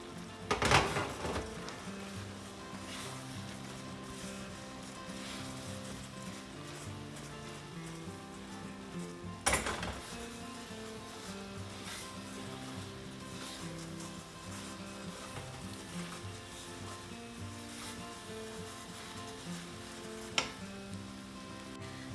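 Powdered oats and dry fruits stirred in a pan, a soft continuous sizzle and scraping with a few sharp knocks of the spoon against the pan over a long steady stretch, no voices.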